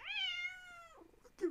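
A cat gives a single clear, drawn-out meow, close and moderately loud, that ends with a brief soft trailing sound.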